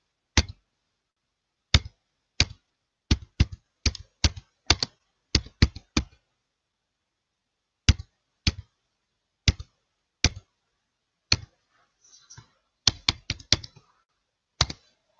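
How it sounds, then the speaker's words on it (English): Bursts of typing on a computer keyboard: sharp, close key clicks in quick runs with pauses between, then a final flurry of taps, with no talking. "I'm going to type that right in here."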